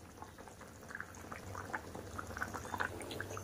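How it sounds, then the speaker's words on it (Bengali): Tilapia fish curry simmers in a pot, a quiet, close bubbling with scattered small pops and gurgles over a low steady background. "এবার একটু খুব ভালোভাবে ঝোলের সাথে মাছগুলোকে ফুটিয়ে নেব।"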